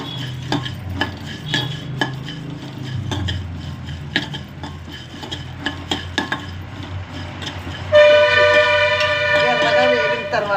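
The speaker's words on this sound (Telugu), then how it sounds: "ధనియాలు వేగిన తర్వాత ధనియాలు వేగుతున్నాయి" Coriander seeds roasting and being stirred in a pan for homemade garam masala give repeated sharp scraping and clinking strokes over a steady low sizzle, followed by a loud tonal beep near the end.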